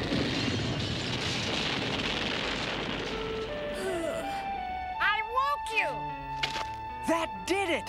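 A cartoon grenade goes off in an old Voltron animated episode, a broad blast whose roar decays over several seconds before voices take over with lively talk.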